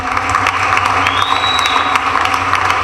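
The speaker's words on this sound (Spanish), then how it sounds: "dale fuerte ese aplauso al Rey de la Gloria" Church congregation applauding and cheering during a Spanish-language worship service, a steady, full wash of clapping and crowd voices throughout with a faint sustained tone in the middle.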